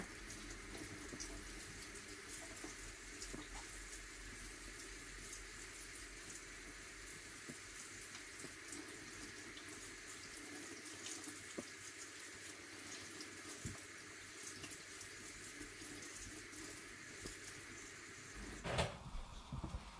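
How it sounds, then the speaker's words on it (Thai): A pot of Thai tom kha chicken soup with coconut milk, carrot and onion boils on the stove, giving a steady close hissing bubble throughout with no talk. "ตอนนี้ก็เริ่มเดือดแล้วนะคะ"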